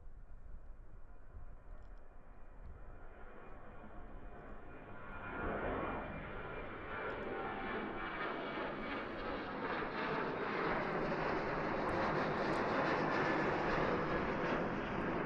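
A Qantas Boeing 737 takes off from Christchurch Airport in New Zealand, its jet engine roar building sharply around the fifth second into a loud, sustained broadband rumble that stays strong to the end, with no talking.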